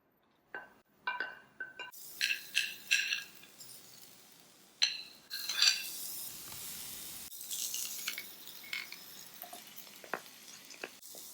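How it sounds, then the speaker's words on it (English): Onions, garlic, ginger, chillies and lemongrass fry in a pan, giving a soft sizzle punctuated by clinks and scrapes of a utensil against the pan, quiet and close. "fry off the onions, garlic, ginger and chillies and the lemongrass for a few minutes until they're lovely and softened"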